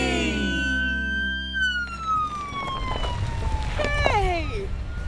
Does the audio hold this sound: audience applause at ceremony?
no